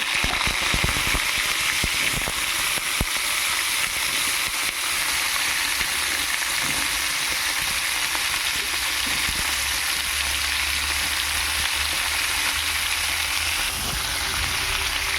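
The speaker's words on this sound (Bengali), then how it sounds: "তেল গরম হয়ে এসেছে। এবার আমি আলু আর পটল দিয়ে দেবো।" Potatoes and pointed gourd fry in hot oil in a pan, giving a steady, dense sizzle that holds at an even level throughout with no talk.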